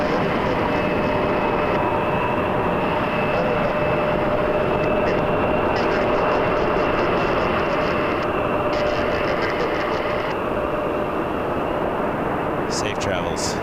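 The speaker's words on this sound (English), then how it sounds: "Safe travels to JFK on Jazz 556, Embraer 175." A Jazz Embraer 175 jet departs from Toronto Pearson Airport with a broad, steady engine roar that holds loud and continuous throughout, with a few faint higher tones layered on top.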